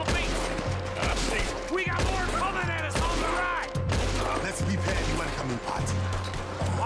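Rapid gunfire crackles in repeated bursts during a firefight in Red Dead Redemption 2, loud and continuous with shouting voices and a low engine-like drone underneath.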